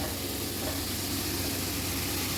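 Onion gravy mixture with cashews sautéing in a pan, a steady close sizzle and frying hiss running without pause, no voices over it.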